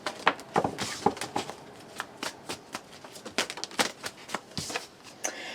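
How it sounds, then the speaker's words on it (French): Tarot cards shuffled and drawn, a rapid run of crisp riffling flicks and slaps, close and fairly quiet, with no talking. "on tire une dernière carte avec la triade"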